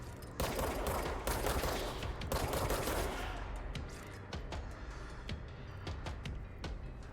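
Pistol gunfire in the video game Control, with loud, dense volleys of shots, then a string of sharper single cracks spaced out over a steady background rumble.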